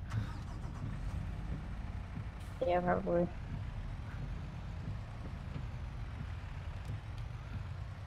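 A Mack truck engine in a farming video game rumbles steadily at low pitch throughout, with a man's brief spoken words partway through.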